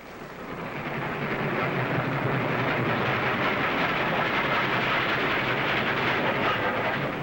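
A 1940s troop train rolls along on its rails with a steady, loud rumble and a dense, continuous clatter that never lets up.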